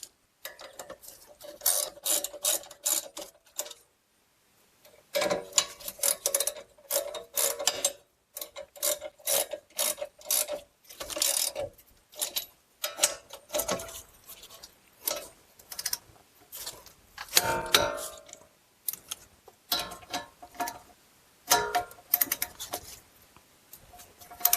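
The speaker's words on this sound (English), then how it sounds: "Then we're going to tighten up both of these bolts to 74 foot-pounds." A ratchet tightens the brake bracket bolts on a Chrysler Town and Country minivan with rapid, close clicking bursts that repeat steadily, separated by brief pauses, with no talk over them.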